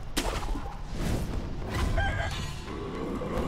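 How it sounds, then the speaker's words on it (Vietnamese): An oversized chicken in Sekiro: Shadows Die Twice clucks and crows loudly and continuously, with game ambience rumbling underneath. "Gà gì mà bự to xác thế."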